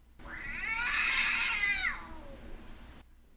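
A cat lets out a single long, drawn-out meow, close and clear, rising and then trailing off against an otherwise quiet background.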